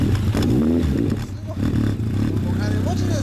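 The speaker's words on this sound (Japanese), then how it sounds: "エンジン音聞かせてもらえますか。" Someone blips the throttle on a 2011 Honda CB1100 Type I ABS Special Edition fitted with a one-off hand-bent titanium exhaust. The engine revs and falls back in short bursts, close by, with people talking over and around it.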